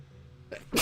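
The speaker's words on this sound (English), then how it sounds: "I gotta sneeze." A single short sneeze, a quick intake followed by a sharp burst at the very end.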